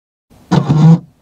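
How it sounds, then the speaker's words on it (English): A short, close mechanical whir with a buzzing hum lasts under a second, then cuts off cleanly: a Volkswagen e-Golf backup camera mechanism operating, heard inside the car. "the backup camera and the noise that it makes when it operates"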